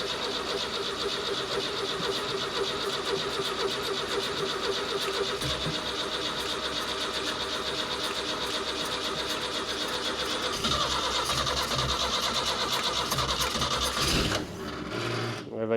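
A 1960s Renault Caravelle engine cranks and fires after two decades standing, fed old fuel, a continuous mechanical clatter and whir running steadily and loud before a change near the end.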